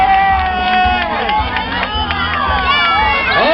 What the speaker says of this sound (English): Let's everybody cheer for Maximus.